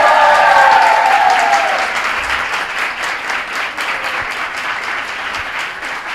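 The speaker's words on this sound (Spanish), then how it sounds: "aquí tenemos a un público súper acogedor que nos va a hacer una ovación ahora" A live audience at a translators' congress breaks into a loud, sustained ovation of many hands clapping. A whistle-like cheer rises at the start, and the applause eases slightly but keeps going.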